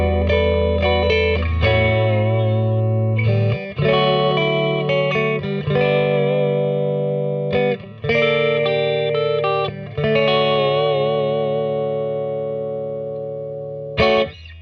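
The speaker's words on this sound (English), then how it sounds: "this is our clean tone going through the Fender Princeton reverb reissue" A clean Jazzmaster electric guitar rings out chords and picked notes through a Fender Princeton Reverb reissue tube amp, warm tone and a touch of reverb, playing steadily with brief pauses between phrases.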